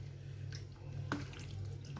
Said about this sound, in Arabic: احنا ممكن نحط هنا شويه ميه على ده كده عشان ينزل كده،